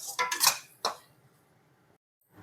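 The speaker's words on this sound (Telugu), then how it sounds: "నెయ్యి వేసుకొని బాగా మిక్స్ చేసుకోవాలి" A spoon clinks and scrapes a few times in a pan as khoa is mixed with ghee, a brief close burst of metallic knocks that falls to near quiet.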